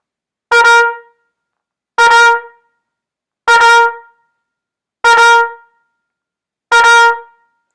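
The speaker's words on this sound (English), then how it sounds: "what I call fanfare tonguing" Brass instrument playing a fanfare tonguing warm-up exercise: five loud, evenly spaced note bursts, each a single breath carrying a quick double-tongued attack before fading, with silence between and no talking.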